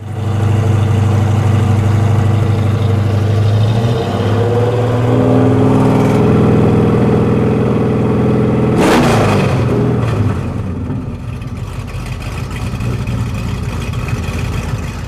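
A big V8 engine in a 1973 Plymouth Cuda rumbles loudly with deep, throaty revs rising and falling, then settles into a lumpy idle.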